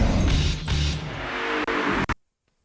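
A racing car engine in an N64 video game, revving hard and steadily for about two seconds with a couple of brief dips before cutting off abruptly into silence.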